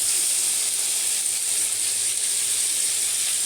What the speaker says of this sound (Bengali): সামান্য ফ্রাই করে